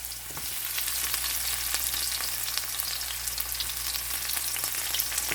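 Garlic sautéing in a hot pan beside squash, chayote and sweet yam leaves: a steady, dense crackling sizzle with scattered sharp pops, close and continuous, with no talking.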